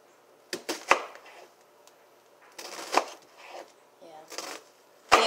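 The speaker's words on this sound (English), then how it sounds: "I'm going to slice this onion up small" A knife slices an onion small on a cutting board, giving irregular bursts of close, crisp cuts with short pauses between them.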